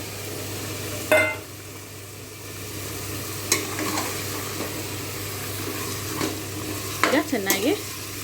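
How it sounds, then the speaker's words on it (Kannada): Vegetables stir-fried for pulao in a pan, giving a low steady sizzle with a few sharp scrapes and clanks of the spatula near the start and end, all close and with no talk. "ಈಗ ಚೆನ್ನಾಗಿ ಫ್ರೈ ಮಾಡಿ."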